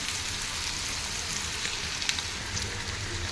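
Eggplant, tomato and onion for a chutney frying in a pan with salt and turmeric, a steady close sizzle and crackle throughout with no talk.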